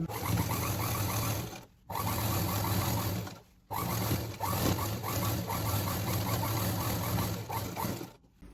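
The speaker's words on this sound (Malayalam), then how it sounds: "ഇപ്പോൾ 2 ഭാഗം അടിച്ചു കഴിഞ്ഞ് ഇനി ഒരു സ്റ്റിച്ചും കൂടെ" A sewing machine stitches cigarette pant fabric in close, loud bursts of rapid rhythmic whirring, pausing briefly twice between runs, with no talking.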